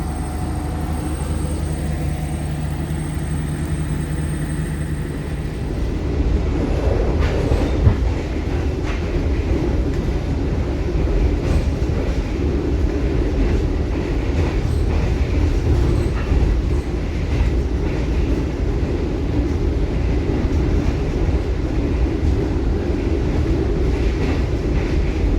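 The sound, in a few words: passing train on Indonesian railway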